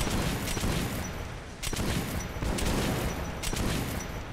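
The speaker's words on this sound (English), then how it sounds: "you can shoot them if you want to from up here" Sustained, dense gunfire from Metro Last Light, loud and continuous, with several sharper shots punching through a heavy roar of rapid fire and no speech.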